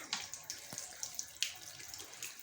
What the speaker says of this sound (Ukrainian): І пробуємо відкривати гарячу воду. Відкрив, зажог.